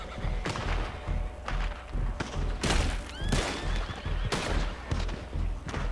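Gunfight in the Red Dead video game, with repeated gunshots cracking at irregular intervals over a steady low rumble of battle noise, some shots loud and close, others more distant.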